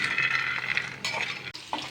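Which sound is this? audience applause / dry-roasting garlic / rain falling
dry-roasting garlic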